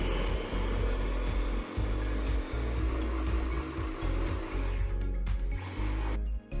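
An electric chopper blends natural yogurt, olive oil, salt and pepper, giving a loud, continuous close-up motor whir with a rattling low hum that dips briefly near the end, with no talking.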